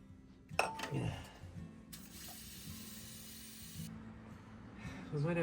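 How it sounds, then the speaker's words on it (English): A spray can hisses steadily for about two seconds in a home garage during motorcycle brake repair work, with clinks of tools and handling noise before and after. "Can you give me that spray?"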